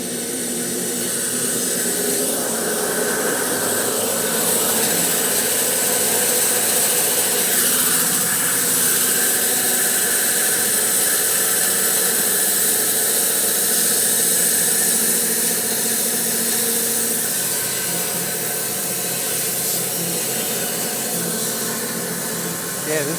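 A custom electric bandsaw mill cuts through a black walnut log, producing a loud, steady roaring whine that holds throughout without pause.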